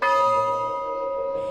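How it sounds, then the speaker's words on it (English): Remembrance bell at Ironroot Republic distillery in Texas, a single loud ringing strike with a clear sustained tone that slowly decays. "we have a bell here that we ring"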